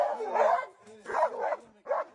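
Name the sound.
Malinois dog barking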